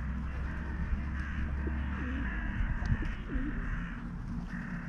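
Crows caw in short, separated calls over a steady low din of pigeons and other birds being fed treats, with gulls nearby, all moderately close and outdoors.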